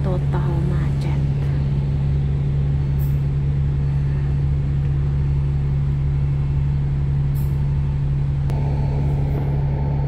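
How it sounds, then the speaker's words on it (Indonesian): Cars and buses sit stuck in a Hong Kong traffic jam, heard from inside a vehicle as a loud, steady idling engine drone with low rumble and occasional faint clicks. "Ini malah bis yang ini yang pinggir total macet."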